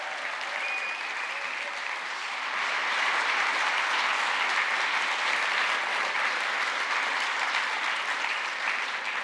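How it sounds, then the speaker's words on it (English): A scientific conference audience on exoplanet atmospheres applauds in a hall, with steady dense clapping that swells slightly louder after a couple of seconds and then holds evenly throughout. "to a massive round of applause as we say goodbye to this year's conference in style with Dr. Hannah Wakeford."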